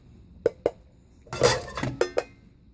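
Metal pots from a Biltema storm cooker camping set clink and knock as they are handled, giving a few sharp separate clinks, then a short scraping rattle, then two more clinks close by with no voices.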